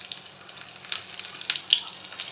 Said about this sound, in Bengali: এবার আমি লঙ্কা কুচিগুলো দিয়ে দিলাম